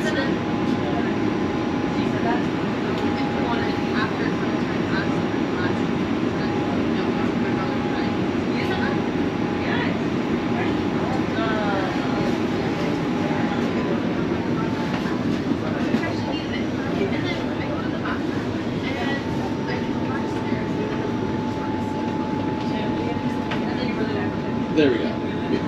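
A train runs steadily along the track, turning through a fairway corridor, with a continuous low rumble and a sustained tonal whine throughout while people talk faintly in the background.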